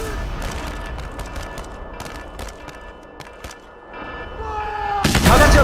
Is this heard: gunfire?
yes